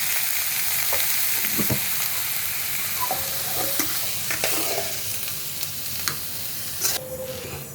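Mustard greens stir-fried in a pan, a steady loud sizzle with frequent scraping and stirring clatters from the utensil throughout.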